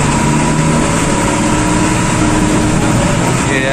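A Bangkok city bus engine rattles and drones loudly while driving, a dense, constant rumble heard from inside the vehicle throughout.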